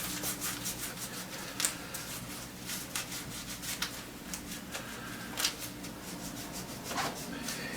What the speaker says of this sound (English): we want to just massage in the fiberglass casting tape